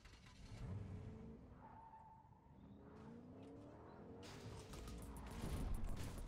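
Car driving in the video game Fortnite, with a steady engine drone, rising revs and tire skid noises that build louder toward the end.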